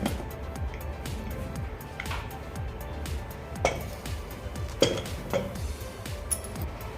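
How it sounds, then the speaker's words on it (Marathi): Lid taken off a cooled pressure cooker holding peas rice (vatane bhat) in a home kitchen, giving a few scattered, light metallic clinks and knocks over a quiet background. "कुकर थंड झाला आहे आता मी झाकण काढून घेते"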